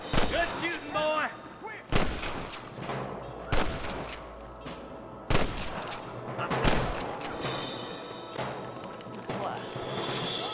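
Sharp, loud gunshots crack out in irregular bursts during a Red Dead Redemption Western shootout, single rifle and revolver blasts separated by short pauses, with game voices and background sounds between them.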